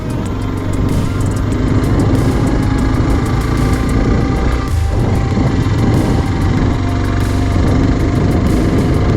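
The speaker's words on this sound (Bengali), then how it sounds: "আর এই সমস্ত জায়গায় কিন্তু বাইককে প্রচুর পরিমাণ স্ট্রাগল করতে হয় প্রচুর হাইট কিন্তু" A motorcycle engine labours up a steep mountain road in the North Bengal hills during the monsoon, a loud, continuous low drone that holds steady with no voices.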